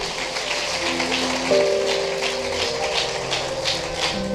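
Dense clapping from a congregation at a Telugu Christian sermon, a steady crackling patter over sustained keyboard tones, moderately loud and continuous without speech.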